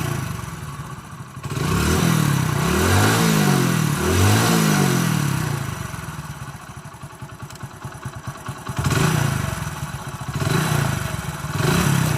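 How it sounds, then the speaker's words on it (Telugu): A motorcycle engine runs close up in a village mechanic's setting, revved in two rising and falling bursts, then idling with a rapid clattering pulse before revving again. "మీరు ఇంజన్ సౌండ్ అయితే వినండి క్లారిటీగా"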